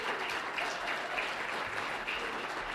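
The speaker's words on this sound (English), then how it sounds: "Can we please get a round of applause for all of our candidates and panelists?" An audience at a Manitou Springs candidate election forum gives a steady round of applause for the candidates and panelists, with dense, even clapping that stays at a moderate level throughout.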